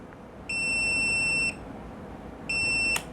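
Beeps from a Tomzn 5-in-1 voltage protector: two steady, shrill electronic tones, each about a second long, separated by a short pause and heard clearly over faint background hiss.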